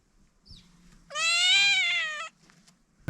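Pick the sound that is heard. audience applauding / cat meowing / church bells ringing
cat meowing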